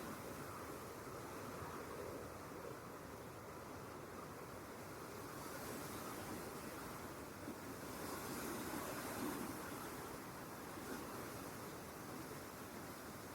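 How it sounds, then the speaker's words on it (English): Summer wind moving through alder trees, a steady, soft, broadband rushing of leaves with gentle swells in intensity, distant and unbroken, with no voices. "Listen to the ancient music of the wind in the trees."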